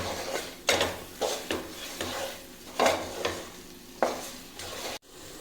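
Spice powders being sautéed in a pan for a lemon pickle, with repeated scraping stirs over a steady low sizzle, close and fairly loud, ending abruptly.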